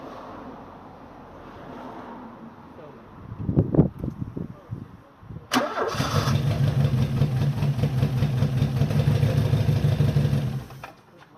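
A 1979 Porsche 924 engine cranks in a few uneven bursts, then catches and settles into a loud, steady idle close by before cutting off.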